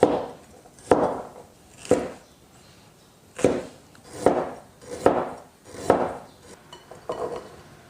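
A kitchen knife slices ginger, scallions, garlic and red chili on a board in about eight distinct, evenly spaced chops, each a crisp close thud with a short ring.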